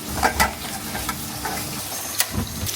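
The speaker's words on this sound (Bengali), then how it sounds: "মাছের কাটাকুটি দিয়ে ডিমটা ভাজার জন্যই নিলাম" Fish roe and fish pieces fry in a pan, a steady close sizzle with a few spoon scrapes and clinks near the start and one more later, no talk.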